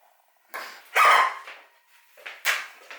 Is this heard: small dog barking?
yes